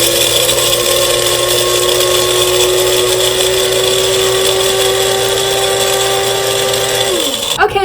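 An electric coffee grinder whirs steadily on coarse while grinding coffee beans, loud and close with a constant high motor whine, then winds down abruptly near the end.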